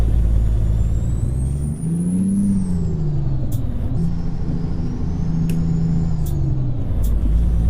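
An International Prostar truck drives in American Truck Simulator, with a loud, steady low diesel drone that rises and falls slightly in pitch, plus a faint high whine and a few brief clicks.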